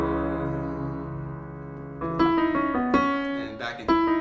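Piano playing the transition section of a song, sustained chords ringing out and then giving way to a few clear, moderately loud struck notes and chords, heard alone and up close.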